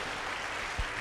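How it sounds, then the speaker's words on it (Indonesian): A church congregation applauds during a worship service, a dense, continuous patter of many hands at an even level, with no voices on top. "Tepuk tangan buat Tuhan Yesus."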